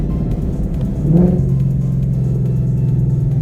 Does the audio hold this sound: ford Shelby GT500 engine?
yes